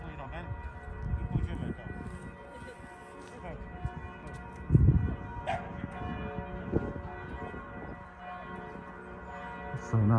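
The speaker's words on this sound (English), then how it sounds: "the church bells are going like crazy" Church bells peal across Krakow at noon on a mid-January Sunday, ringing continuously at a distance under outdoor city ambience, with people talking nearby.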